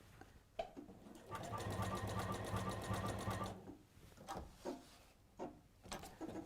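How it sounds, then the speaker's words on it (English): A domestic sewing machine stitching through a bulky quilted Bargello wall hanging, a steady close rapid whirring hum for about two seconds, then a few separate clunks and taps of handling the fabric and foot lift. "it's not making any strange noises, bad noises. It's happily sewing it."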